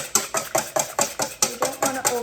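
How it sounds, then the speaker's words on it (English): Metal whisk beating in a bowl at a brisk, regular pace, about two strokes per second, each stroke a sharp clinking scrape, close and alone. "We're going to use our whisk."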